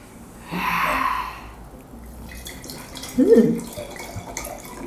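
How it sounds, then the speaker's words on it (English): Sonoma-Cutrer wine is poured into a glass in a short, close liquid gush, followed by a quieter stretch and a brief sip-like sound. "pouring some wine and taking a sip"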